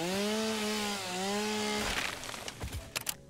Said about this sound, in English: I'm just going to now break out the chainsaw.